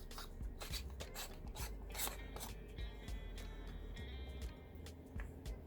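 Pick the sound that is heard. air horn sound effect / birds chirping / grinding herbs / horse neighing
grinding herbs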